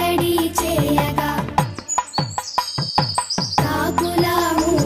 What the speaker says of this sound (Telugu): పందిట పిచ్చుకలు సందడి చేయగా